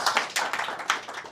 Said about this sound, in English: Upfront applause, perfect.